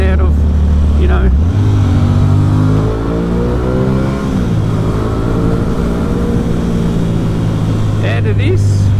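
An Aprilia Tuono 660 motorcycle engine idles with a deep, steady harmonic rumble, then revs up and settles, loud and close, with no one talking.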